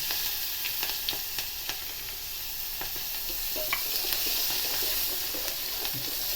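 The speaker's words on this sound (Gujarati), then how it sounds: "હિંગ એડ કર્યા પછી મીઠા લીમડાના પત્તા એડ કરવા તેમાં કટિંગ કરેલા થોડા મરચાં એડ કરવા" Curry leaves and chopped chillies frying in hot oil after asafoetida, giving a steady soft sizzling hiss dotted with small crackles and pops, close and alone without voices.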